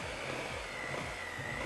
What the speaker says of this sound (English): we're gonna try mixing it with the mixer first